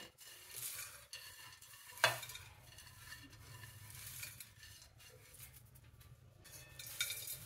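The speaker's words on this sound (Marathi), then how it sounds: "त्याच्यामध्ये ते शेंगदाणे टाकून त्यातून आपण ते साली सेपरेट करूया" Roasted peanuts rubbed around in a slotted metal frying ladle to strip their skins, giving a soft, steady rustling scrape with a few light metallic clinks, faint and close with no talk.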